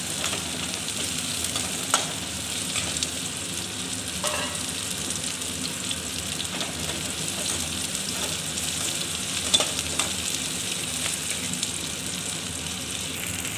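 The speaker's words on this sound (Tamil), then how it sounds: "இந்த ரெண்டுத்தையும் சேர்த்து நல்லா வணக்கிக்கலாம்" Dried red chilies sautéing in oil in a pan while cooking okra tamarind curry, a steady close sizzle and crackle with occasional stirring clicks throughout, no voices.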